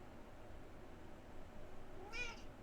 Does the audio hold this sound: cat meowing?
yes